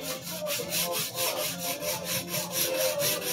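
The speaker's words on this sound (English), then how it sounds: "I'm going to spend more time sharpening, a little more time sharpening the right side of the knife than the left side." A Takeda Aogami Super steel knife is drawn back and forth over a whetstone in steady, rhythmic strokes, a close, gritty rasping that repeats about every half second with no voices.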